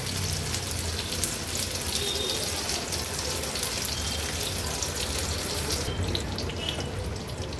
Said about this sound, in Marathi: जवळपास 3 ते 4 मिनिटांसाठी लो फ्लेमवरच हे कबाब व्यवस्थित शिजवून घेऊया.